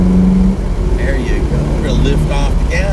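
Ferrari 488 GTB accelerating on a race track at Autobahn Country Club, engine droning steadily under an instructor's voice, rising in pitch in short pulls.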